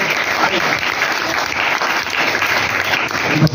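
Audience applause at a school Marathi Language Day and math exhibition event, steady dense clapping filling the whole stretch at close range with no talk over it.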